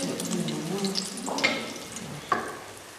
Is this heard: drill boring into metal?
no